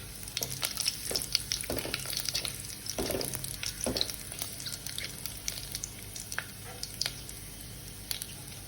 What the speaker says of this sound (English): Now on a high flame, we'll add in the elaichi and the pepper, and the jeera. Fry it a bit.